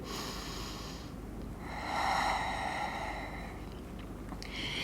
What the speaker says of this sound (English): Take one big breath here.